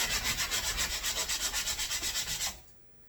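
Joint compound on a closet wall is sanded with steady back-and-forth strokes, a close, even rhythmic scratching that repeats about six times a second before stopping abruptly.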